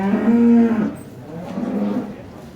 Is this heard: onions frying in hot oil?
no